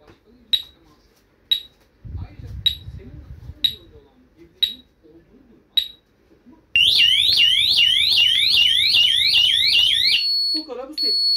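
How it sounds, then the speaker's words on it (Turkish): A DESİ HS102 Metaline security alarm panel gives single sharp chirps at regular intervals, then a loud continuous warbling electronic siren blares for several seconds before cutting off, with brief talking. "Alarmı susturacaksınız."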